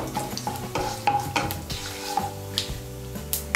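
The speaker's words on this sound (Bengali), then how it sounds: "ফোড়নটা দিয়ে একটু নাড়াচাড়া করে নিয়ে এর মধ্যে আমি আদা বাটাটা দিয়ে দেব" Ginger paste stirred into a hot spice tempering of cardamom for a paneer dish, with a spatula scraping and tapping the pan in irregular strokes over a light sizzle, close and alone.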